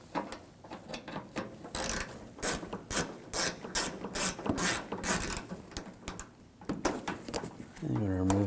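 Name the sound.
ratchet with 8mm socket removing headlight screw on BMW 328i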